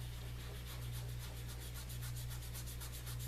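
Steady dry rubbing of a fingertip pressing dry pastel into paper, soft and continuous, with gentle rhythmic strokes close up and no talking.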